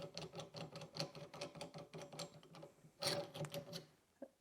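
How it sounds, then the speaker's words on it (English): A part being unscrewed on a GRS BenchMate jeweler bench gives a close series of small rapid clicks and ratcheting taps, with a brief louder rattle near the end. "All you really have to do is unscrew right here."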